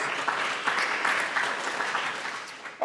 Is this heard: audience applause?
yes